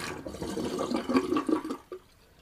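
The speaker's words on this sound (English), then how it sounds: "I'm gonna drain that sink." Water gurgles and slurps as a bathroom sink drains, a close, bubbly rush that swells and then cuts off abruptly, followed by a last small gulp and quiet.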